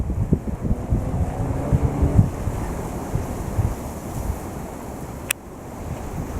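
High storm wind roars and buffets the microphone on the Gold Coast while waves surge, a continuous loud rumble of gusts and surf close by, with no talk.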